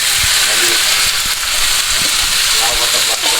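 Ingredients hit browned onion paste in a hot pan while cooking beef, giving a loud, dense, continuous sizzle and hiss close up, with a voice talking over it.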